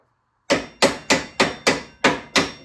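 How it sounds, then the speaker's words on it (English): Seven sharp metallic hammer strikes on a Honda Shadow front axle in a steady rhythm, loud and close, each blow ringing briefly before the next. "give it a little couple cracks with the hammer, and the axle will start to come out"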